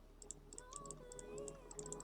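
Typing on a new computer keyboard, quick sharp key clicks in uneven bursts, faint and close, over a soft tonal game background hum.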